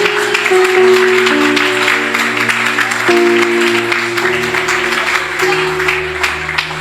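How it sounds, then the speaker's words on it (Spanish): A church congregation claps during a Spanish-language service, a steady mass of applause mixed under sustained keyboard or organ chords that shift pitch as it continues. "Dale un aplauso al Señor."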